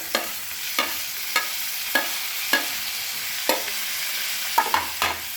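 Green chilli and tomato fry in roasted masala with red chilli for a vegetable sabzi, a soft continuous sizzle broken by regular sharp clinks of a spoon stirring against the pan.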